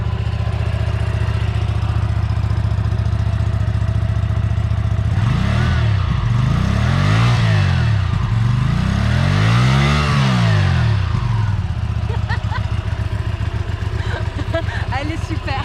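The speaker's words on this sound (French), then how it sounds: "écoutez-moi ce bruit de l'échappement." Exhaust of a 2020 Hyosung Aquila 125 Bobber motorcycle, idling steadily, then revved in several rising and falling swells before settling back to idle, loud and close.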